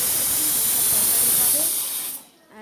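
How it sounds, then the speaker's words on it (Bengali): Fish sizzles in hot oil in a home kitchen pan, a loud steady frying hiss close by that cuts off near the end, followed by a voice. "আমি এখন মাছ ভাজছি, এই যে মাছ ভাজছি"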